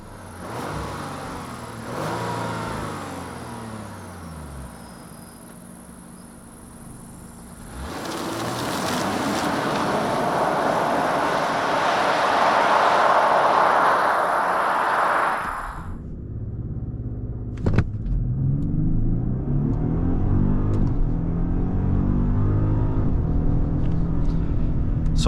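A Genesis G90 accelerating from 0 to 100 km/h, heard from inside as a rising engine and road roar that swells loudly mid-run, then settles into a steadier rumble, with no talk.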